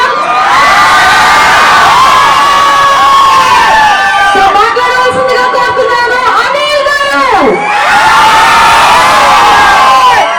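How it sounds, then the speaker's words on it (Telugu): A large audience at a Telugu film event shouts and cheers wildly, a loud sustained roar of many high, excited voices with whoops rising and falling across the crowd. "ఎక్కడ కేకలు ఎక్కడ చెప్పట్లు ఎక్కడ"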